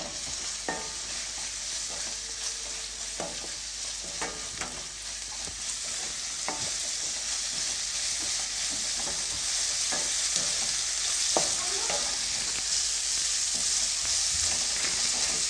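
Masala tempering with turmeric and coriander leaves is stirred in a hot pan for puffed-rice mandakki, a steady close sizzle broken by repeated scraping clicks of the spoon against the pan.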